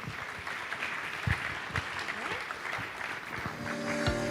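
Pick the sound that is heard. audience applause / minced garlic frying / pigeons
audience applause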